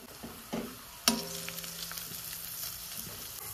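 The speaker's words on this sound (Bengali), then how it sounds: "বিনস আর গাজরটা ভালোভাবে ভাজা হয়ে গেছে" Beans, carrot and minced meat fry for momo filling in a pan, with a steady close sizzle, a couple of sharp utensil clanks and stirring scrapes.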